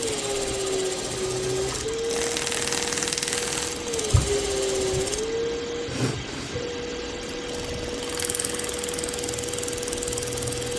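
A Daikin DC fan motor runs with a steady tonal hum that shifts slightly in pitch while its shaft is held for friction testing, joined by occasional knocks and clicks from handling.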